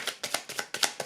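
Tarot cards are drawn and handled in a quick series of crisp, close paper swipes and flicks, about six in just over a second.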